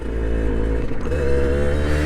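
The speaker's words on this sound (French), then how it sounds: "J'adore prendre ma moto" A motorcycle engine runs steadily while riding, a loud close drone with dense low harmonics and a slight dip then pickup near the middle, continuous throughout with no voices.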